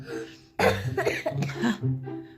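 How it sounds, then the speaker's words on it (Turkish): A child coughs several times in a row, harsh and close, with short pauses between the bursts. "Öksür güçlü öksür oğlum."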